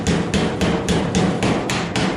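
Hammer tapping a Ford Falcon XB GS steel body panel during panel repair, a quick even run of about eight sharp metallic taps, close and loud.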